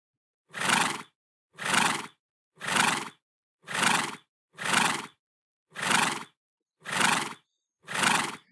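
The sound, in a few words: horse neigh sound effect in Scratch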